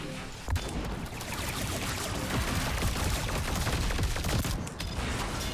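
A vehicle-mounted gun on an M1128 Stryker in Trailmakers fires in a long, continuous automatic stream of loud, rapid shots, steady for several seconds before a brief pause near the end.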